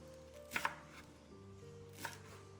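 Chinese broccoli leaves are sliced with a kitchen knife, giving a few quiet, crisp chops on a cutting board, a quick pair and then a single cut, over a faint background hum.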